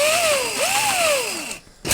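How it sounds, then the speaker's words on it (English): A handheld power drill bores locator pins into a custom Telecaster guitar body, its motor whining as the pitch dips and rises under load, then stopping abruptly. "I'm going to take my drill, and all I'm going to do here is drill in a couple of locator pins"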